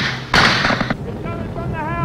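A loud burst of heavy gunfire from Vietnam War–era machine guns, close and harsh for about half a second, then dying away under someone speaking.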